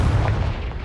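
A Confringo spell explosion in the Hogwarts Legacy video game, a loud, dense low boom that fills the whole moment and fades slightly.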